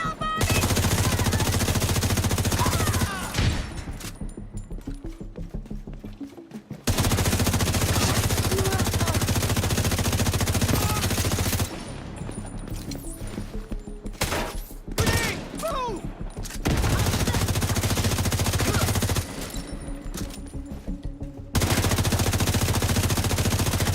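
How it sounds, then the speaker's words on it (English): Sustained rapid-fire shooting from a gun in The Division comes in several loud, close bursts of machine-gun fire, separated by short quieter gaps before each new volley. "You can stay in there and I'll still shoot you."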